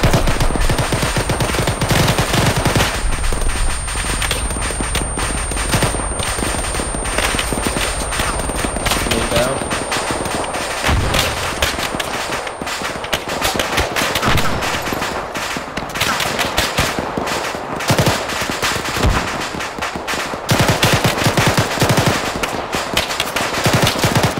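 Arma 3 combat in Takistan with sustained machine gun bursts and scattered gunshots, loud and close. The firing continues in rapid rattling volleys, with brief pauses, and occasional voices sound beneath it.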